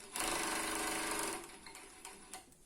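A sewing machine stitches stretched ribbing onto a sweatpants leg in a loud close burst of fast needle rattle, then slows to shorter, softer spurts.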